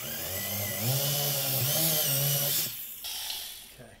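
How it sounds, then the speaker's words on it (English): A small impact drill bores into a wall while a TV is being hung, giving a loud, steady whining drone with a wavering pitch for a few seconds before cutting off and leaving a quiet room. "So we're just gonna start with our little impact drill."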